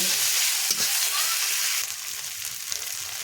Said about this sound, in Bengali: এটাকেও ভালো করে আমি তেলের সাথে ভেজে নেব